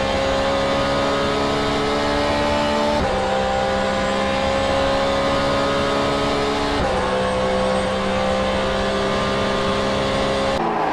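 An LMGT3 race car engine drones loudly and steadily from the onboard view in a sim racing game at Road America, its tone climbing through the revs, with two abrupt pitch drops at gear changes.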